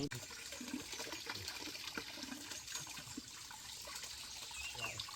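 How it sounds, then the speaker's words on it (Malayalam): Water trickling and splashing down beside a tree near Peradipallam waterfalls in Kanthalloor, a steady, fairly faint wash of dribbling water with no talk. "മരത്തിൻ്റെ സൈഡിൽ കൂടെയൊക്കെ വെള്ളം ഇങ്ങനെ വീഴുന്ന കാണാൻ."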